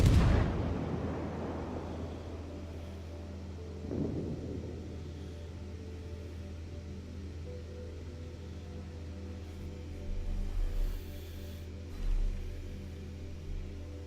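Battleship Alaska's main guns firing in a naval game: a heavy boom at the start, then a second, softer thud and distant rumbles over a steady low hum.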